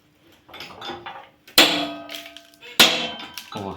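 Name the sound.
20-ton press pressing a socket head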